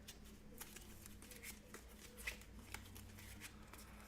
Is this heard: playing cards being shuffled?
yes